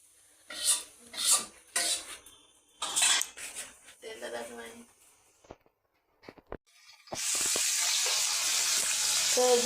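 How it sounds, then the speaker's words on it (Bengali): Hilsa fish frying in a home kitchen pan gives a steady, loud sizzle for the last few seconds, after a run of clattering dishes and cutlery. "ইলিশ মাছ ভাজি করছে এখন"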